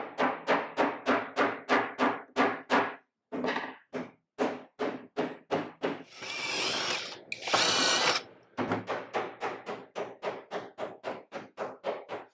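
A power drill whirs in a quick run of short, evenly spaced bursts, pauses for a longer hissing stretch, then resumes its rapid on-off pulses, close and clear with no talk.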